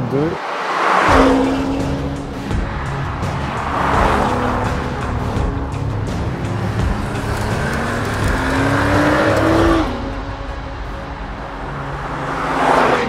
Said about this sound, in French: On termine en jouant du clairon avec le 6 cylindres en ligne BMW M qui chante bien.